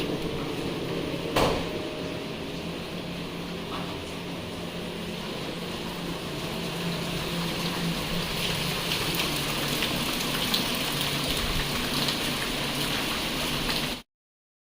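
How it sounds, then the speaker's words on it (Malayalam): Steady monsoon rain falling in the hills around a resort at Kakkadampoyil, Kozhikode, a dense even hiss with a brief knock early on, continuing at an unchanging level until it cuts off near the end. "നല്ലൊരു മഴ എപ്പോൾ നോക്കിയാലും മഴ തന്നെയാണ്"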